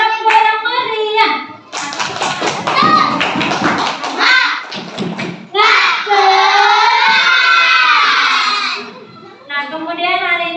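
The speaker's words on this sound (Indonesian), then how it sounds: "kita tepuk semangat semuanya. Tepuk yang meriah." Indonesian classroom pupils chant and clap together in a spirited rhythmic class clap, bursts of quick hand claps mixed with loud children's voices, close and energetic, with a long shouted cheer near the end.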